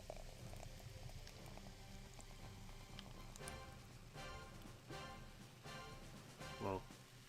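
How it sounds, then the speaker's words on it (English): A fizzy drink is poured, giving a soft continuous hiss and crackle of bubbles with a few sharper pouring bursts near the end; quiet and close. "Getting my fizzy beverage ready."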